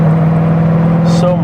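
Corvette C6 Z06 with its 7-liter LS7 V8 cruising in 5th gear at about 2,000 rpm on a back road, a steady low engine drone heard from inside the car, close and loud, with a voice talking over it.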